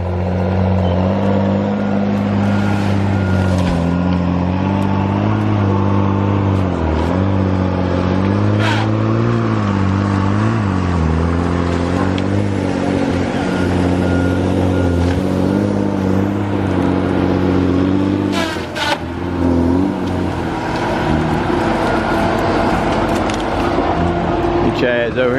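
Heavy truck engine laboring as it climbs a steep, wet hill on a logging or hauling site, a loud, steady diesel drone with shifting pitch that runs continuously, and voices talk over it at times.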